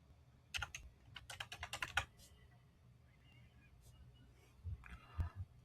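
Fingers tap out a code from an email on a computer keyboard in a quick, quiet burst of clicks, a pause, then a few more keystrokes at the end, with faint background hiss.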